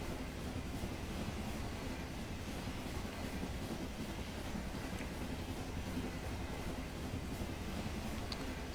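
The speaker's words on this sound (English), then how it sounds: "Alright, so we're on the train!" A steady rumble of a train travelling in The 39 Steps video game, a continuous low clattering drone at moderate level that runs unbroken throughout without talk.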